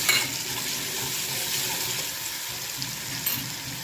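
Fenugreek greens mixture being stirred in a hot pan for methi bhaji, giving a steady soft sizzle with faint scraping throughout, close and continuous, with no voices.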